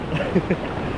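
Ocean waves breaking on a San Diego beach give a steady, broadband wash of surf over the whole short moment, with a faint voice briefly audible underneath.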